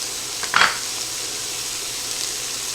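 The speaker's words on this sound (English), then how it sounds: "I'm going to saute these down" Steady sizzle of cheesesteak casserole ingredients sautéing in a hot pan, seasoned with salt and pepper, a constant hiss with one brief clatter of stirring near the start and no talking.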